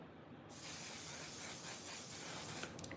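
Makeup setting spray comes out of its bottle in a single close, continuous hiss lasting about two seconds, followed by a few faint clicks.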